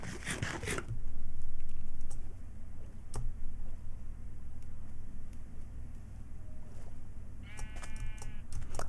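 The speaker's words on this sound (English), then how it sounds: "I hear sheep." Sheep bleat in the video game Minecraft, faint and brief calls heard over steady background game ambience, with a few clicks and a short bleat-like burst near the end.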